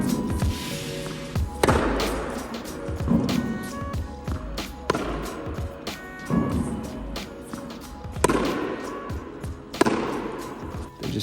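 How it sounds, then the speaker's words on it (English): Tennis racquet striking balls outdoors, alternating full forehands with soft drop shots during a pro player's practice session; sharp pops of contact recur every second or so, with ball bounces and court thuds between them and no talk. "I was just alternating between like hitting a forehand and little drop shots here"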